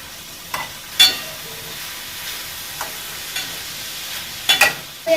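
Onions and tomato sauteing in a pan for a South Indian crab curry, with a low steady sizzle, a few sharp clinks and stirring knocks of the spoon, and no talking.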